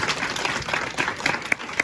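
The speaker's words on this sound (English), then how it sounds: "Another round of applause for Tony." Audience applause at a transit workers' union women's committee gathering, a steady wash of many hands clapping with a few sharp individual claps standing out near the end.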